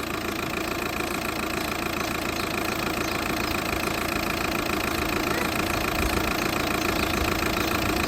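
VW Passat B6 engine idling while warming up after a radiator replacement: a steady, loud, unbroken mechanical hum with a faint rhythmic tick, heard close up without voices.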